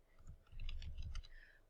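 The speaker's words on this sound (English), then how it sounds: "So in here I'm gonna go and type in the username" Keys tapped on a computer keyboard while a username is entered, a short burst of soft clicks in quick irregular succession, close and fairly quiet.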